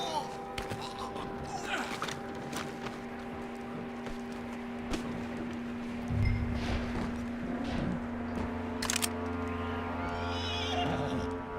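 A horse whinnies in Red Dead Redemption 2, with a few hoof thuds and a voice speaking over steady background game music.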